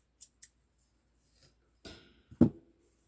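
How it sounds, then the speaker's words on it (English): Scissors snip yarn during crochet work on a granny square bag: a couple of light metallic clicks, then two sharper closer snips near the end, in an otherwise quiet room. "and just snip that off."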